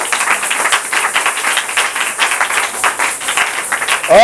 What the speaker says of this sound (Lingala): Acclamez très fort pour le roi de rois.